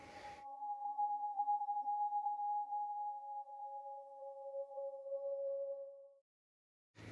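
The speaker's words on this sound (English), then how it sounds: "the next thing I actually added was this synth texture from Cymatics" A Cymatics synth texture pitched into key for a dancehall beat, two steady sustained tones gliding together alone for about six seconds, then cutting off abruptly.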